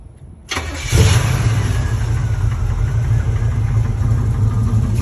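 An old truck's small-block Chevy engine cranks briefly and catches, then settles into a loud, steady rumbling idle close by.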